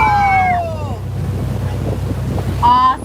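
Boat wake and ocean waves wash steadily against a moving boat at sea, with wind buffeting the microphone, while dolphin-like whistles and chirps rise briefly near the start and again near the end.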